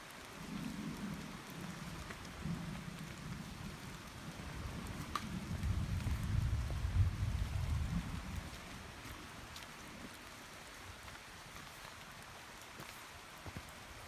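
Rain patters steadily on a wet, rocky hiking trail while low thunder rumbles through the middle, building then fading, with no voices over the storm.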